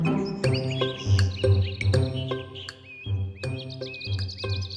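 A small bird chirps in bright, repeated tweets and short warbling calls over a steady backdrop of musical tones, the calls coming in clusters throughout.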